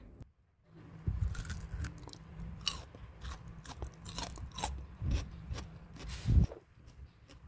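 Dry, crisp crunching from close-up bites and chewing of dried candied winter melon, irregular crackles and snaps with a louder crunch near the end, no talking.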